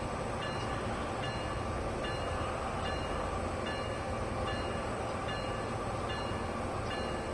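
An older locomotive rumbles along steadily in a train simulator video game, a constant dense drone of engine and rail noise with faint periodic clicks, fairly quiet and without pause.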